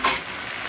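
Tomatoes tossed into a pan of frying garlic and onion and stirred, giving a short, bright sizzle that flares at once and then settles into a steady hiss.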